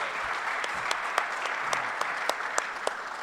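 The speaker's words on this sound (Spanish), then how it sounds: "un aplauso para Cristian" Audience applause at a Spanish-language panel session on production financing, with some people clapping across the room and sharper individual claps standing out, steady and moderately loud for about three seconds.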